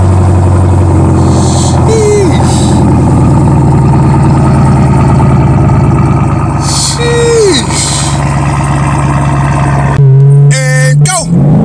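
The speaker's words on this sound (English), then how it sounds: "Let's get that good old cold start." A 2020 Chevy Camaro 2SS V8 rumbles loudly and steadily close by on a cold start, with brief higher revs and pitch sweeps, and a sharper burst of sound near the end.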